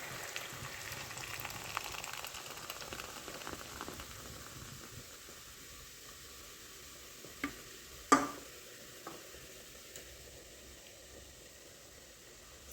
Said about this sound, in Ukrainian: Такі пательні я смажу її з усіх боків до золотистого кольору